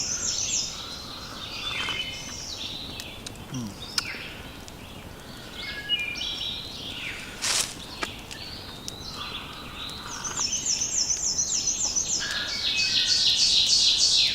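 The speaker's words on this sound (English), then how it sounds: "the birds are just singing beautifully again" Birds chirp and trill throughout in the morning on a mountaintop, several calls overlapping at varying distances, steady and bright against a quiet outdoor background.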